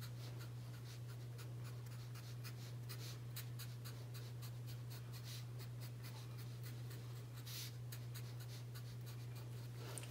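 A pencil draws short, quick lines around a circle on paper, soft scratchy strokes repeating rapidly and faintly at close range over a constant low hum.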